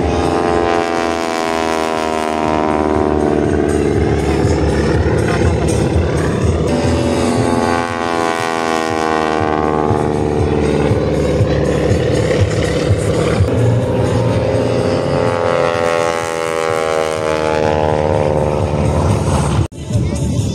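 A propeller aircraft engine at the Košice air show during a wing-walking display, giving a loud, steady harmonic drone whose pitch swells and falls for about twenty seconds.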